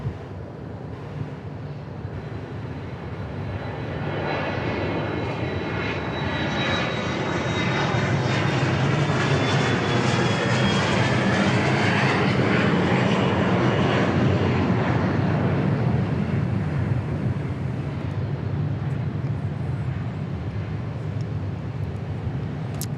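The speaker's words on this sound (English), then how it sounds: "that Liberty One lands on 13 left" A Liberty One aircraft lands on runway 13 left at Dallas Love Field at night, its engine roar swelling loudly and passing close before easing into a sustained rumble.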